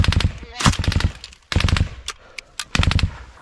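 A machine gun fires in a trench during an assault in 2023 combat, with repeated sharp bursts of close, loud shots separated by short pauses and a brief gap as the weapon is reloaded.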